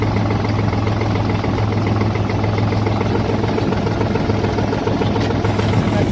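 A tractor engine runs steadily in a village farm field, a continuous close, loud low drone with a throbbing idle-like rhythm that holds unbroken throughout.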